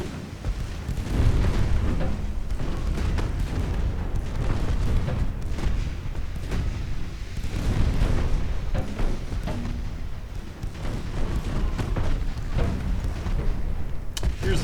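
Naval gunfire and shell explosions in the warship video game Ultimate Admiral Dreadnoughts, a dense, continuous barrage of booms and blasts rolling over a low rumble for the whole stretch, with no talk.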